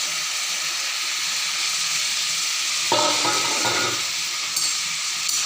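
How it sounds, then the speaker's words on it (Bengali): Fried fish and green chillies are turned in a pan alongside bottle gourd, a steady close sizzle broken by a brief louder burst of frying and stirring partway through, with no talking. "তো এখন আমি এই যে ভাজা মাছগুলি তুলে দিচ্ছি, এবং সাথে কাঁচা লঙ্কা"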